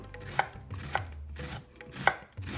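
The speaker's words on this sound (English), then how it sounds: "I'll chop it using my trusty santuku" A light santoku knife chops half of a medium onion on a cutting board in a few sharp, separate strikes spaced unevenly, close and crisp against a quiet background with no voices.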